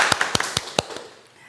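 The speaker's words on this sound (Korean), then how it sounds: "모두 큰 박수로 맞이해주세요." A few sharp, evenly spaced hand claps ring out briefly to welcome a guest onto an interview set, then fade into quiet.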